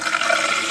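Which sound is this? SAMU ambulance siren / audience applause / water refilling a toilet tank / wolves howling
water refilling a toilet tank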